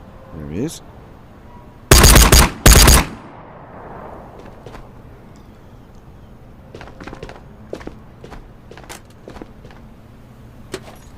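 Two loud, closely spaced shotgun blasts ring out in the Ghosts of Tabor VR shooter, followed by faint clicks, handling noises and scattered soft knocks in a quiet space.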